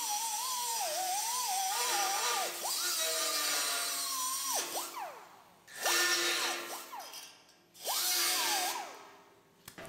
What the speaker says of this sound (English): So we're going to grind that off.